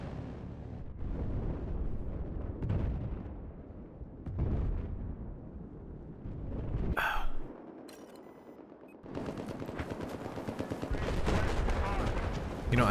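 Tank cannon fire and gunshots in Battlefield multiplayer, repeated heavy booms and crackling gunfire, loud and close, with a short quieter gap midway before intense firing resumes.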